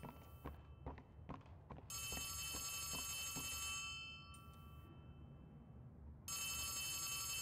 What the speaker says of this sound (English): But I hear a phone, too.